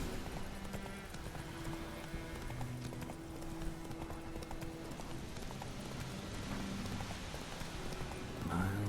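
Roach, the horse in the video game Witcher 3, walks with a steady clip-clop of hooves in a dense mix of game sound and ambience, the footfalls near and continuous throughout.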